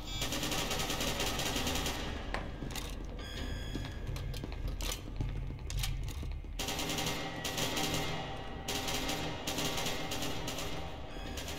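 Sustained automatic gunfire in SCP: Secret Laboratory, with long rattling bursts and overlapping shots that fill the whole stretch, fairly quiet overall, with a brief break midway before the firing resumes.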